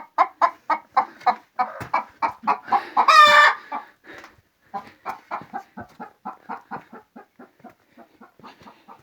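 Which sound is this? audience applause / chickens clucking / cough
chickens clucking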